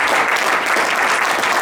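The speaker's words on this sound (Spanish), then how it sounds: "Denle un aplauso al Señor con todo su corazón." A church congregation bursts into loud, sustained applause, many hands clapping together in a dense, close roar with no clear speech over it.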